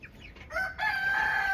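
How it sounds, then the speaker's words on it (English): Rhode Island Red rooster giving a short crow up close, a rising call that settles into a sustained held note, with no talking. "So I only have 2 more Red and a rooster, Rhode Island Red"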